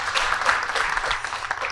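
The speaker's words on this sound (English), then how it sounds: "please give a round of applause for wonderful panelists, for wonderful discussions" Audience applause for panelists at the close of a pharma venture capital panel: a brief, dense burst of many hands clapping, fairly loud and even throughout.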